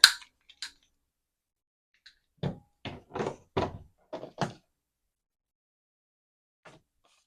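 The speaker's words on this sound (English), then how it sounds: "I'm going to also corner round 2 corners just so it matches my other" A handheld corner rounder punch trims the corners of a paper folio booklet, giving a few sharp, quiet clicks and thunks in short bursts with pauses between, close by and otherwise silent.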